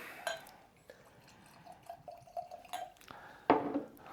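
Silver Springs Sweet Rye whiskey is poured into glasses: faint trickles and drips with small glass clinks, one sharper clink near the end, quiet and close.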